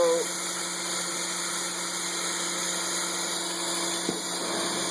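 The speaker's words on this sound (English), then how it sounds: "get that pump to cycle so you can see what the flow looks like and hear it" A pump cycling while pumping acetone hums steadily at close range, a constant mechanical drone with a faint high whine and a brief click near the end.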